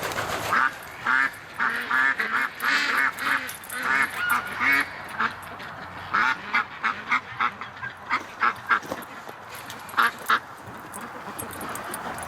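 Muscovy ducks in a yard give repeated raspy, honking calls in uneven bursts, fairly close and loud, overlapping one another for several seconds.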